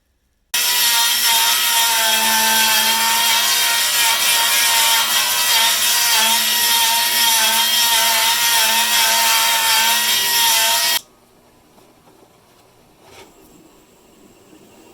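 A power tool cutting sheet metal for a Jeep YJ custom inner fender runs as one continuous loud, harsh whine for about ten seconds, then stops abruptly, leaving quiet shop noise and a single knock.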